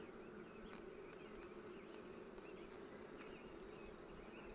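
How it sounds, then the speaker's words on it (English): Honey bees buzzing inside an open hive during an inspection, a dense continuous drone, close and steady, with no voices. "Oh yeah, tons of bees in here."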